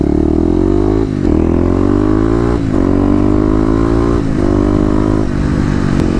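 Kawasaki KLX motorcycle out on a ride, its engine droning loud and close with a rising pitch through the gears, broken by brief dips at each shift.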